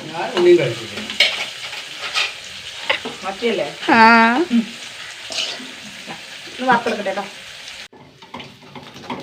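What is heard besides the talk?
sardines frying in a pan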